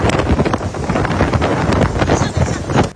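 Strong Typhoon Koinu wind gusts on the Hengchun Peninsula roar loudly and continuously against the microphone, a dense rushing buffeting with no pause.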